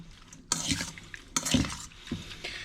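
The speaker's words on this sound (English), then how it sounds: "I'm going to stir it up, and then I'm going to stir in the kefir" A spoon stirs a beet soup mixture for Lithuanian cold beet soup in a bowl, giving two bursts of scraping, sloshing strokes followed by quieter clinks and swishes, up close with no voices.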